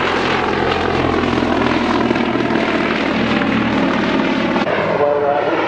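Vintage Bristol aircraft at an air pageant, their engines droning loudly and steadily throughout with a low propeller thrum, the roar dropping away abruptly near the end.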